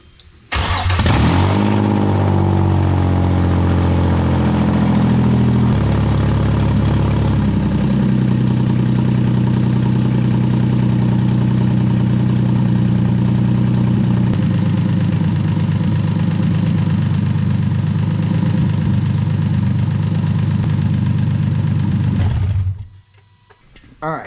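A car engine cranks and catches, then settles into a steady, loud idle right up close for about twenty seconds before shutting off, just after cooling system work during a refresh of a Nissan KA engine or BMW E36.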